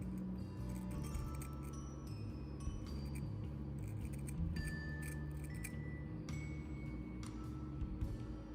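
Sharp scissors snip through the bristle head of a well-made paintbrush in a quiet room, giving a series of faint, close, irregular crisp cuts and small clinks over steady low background hum.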